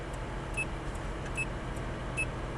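A Ferrari F430 idles low and steady as it reverses slowly on a race track, with a few faint high beeps sounding over the constant engine rumble.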